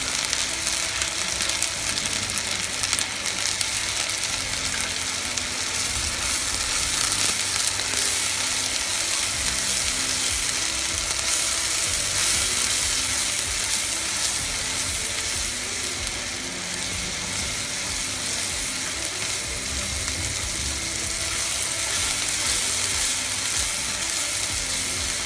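Masala with tomato paste frying in a pan for chole, a long, steady hissing sizzle at moderate loudness with occasional soft stirring scrapes and crackles throughout.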